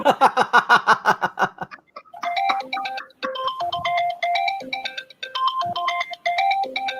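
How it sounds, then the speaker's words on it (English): A text message alert tone rings out as a loud, bright, bouncy electronic melody of short chirping notes, following a burst of rapid, rhythmic laugh-like pulses. "that's AZ's text alert"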